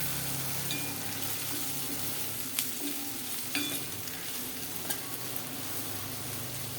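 Okra and potato curry frying in a pan while being stirred, a steady close sizzle with occasional scrapes and clicks of the spoon against the metal, no talking.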